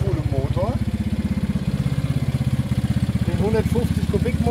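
A small 150cc Hillbil XTR 8 buggy engine idles with a fast, even chugging pulse, close by, while someone talks over it.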